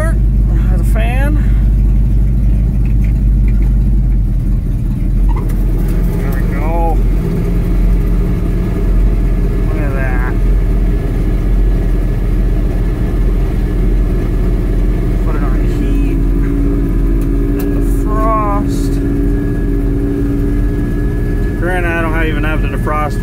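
An old 1971 GMC pickup's engine idles loudly and steadily with a low rumble the whole time, with a few brief chirps and squeaks over it as people talk nearby.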